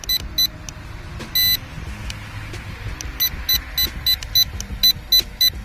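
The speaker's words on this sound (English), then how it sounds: "it's just making the annoying beeping noise" High, sharp beeps from an XT105 mini RC drone repeat in quick bursts, some evenly spaced in a steady series, over a low motor whir and background noise.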